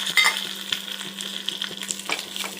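Curry leaves and a spice mixture sautéing in hot oil for kathirikai puli kulambu, a bright continuous sizzle with quick scraping stirs of a spoon in the pan and a steady low hum beneath.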